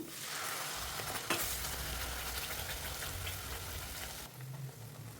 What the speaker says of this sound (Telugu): మిక్సీ పట్టుకున్న గ్రేవీ వేద్దాం